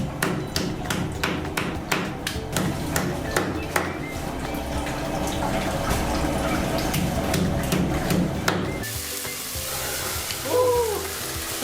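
Chopped chicken stir-fried with taro stems in very hot oil, a continuous crackling sizzle cut by sharp spatula taps and thuds against the pan, close and loud, with quiet speech near the end.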